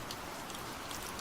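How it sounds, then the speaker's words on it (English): Steady rain falls outside a window, an even, dense patter with no breaks and no voices. "let the rain outside your window become the backdrop for our journey"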